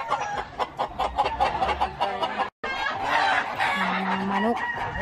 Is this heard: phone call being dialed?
no